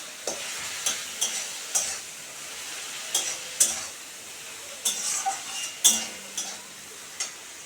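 Ginger, garlic and chili paste sizzles in a hot pan while being stirred, a steady frying hiss broken by repeated sharp clicks and scrapes of a utensil against the pan, with no talking.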